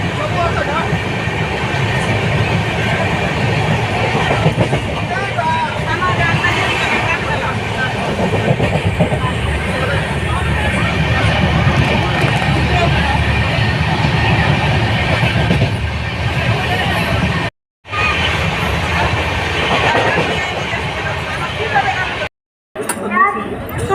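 A train rolls through a railway station with a steady, loud rumble and wheel clatter, people talking over it and two brief dropouts near the end.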